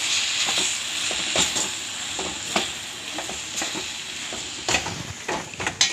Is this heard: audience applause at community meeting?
no